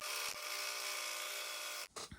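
A sewing machine stitches the cut-off ends of a t-shirt side seam together in one steady, continuous motor whir close by, stopping abruptly near the end with a couple of brief clicks.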